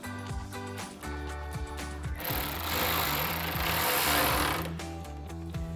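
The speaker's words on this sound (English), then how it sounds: "We can install our T25 Torx screws back into the bottom. Using our T25 Torx bit." A T25 Torx bit drives Torx screws into the bottom of a plastic replacement grille on a 2009-2014 Ford F-150, giving a steady, loud mechanical whir in the middle of the clip, with lower rhythmic background tones before and after.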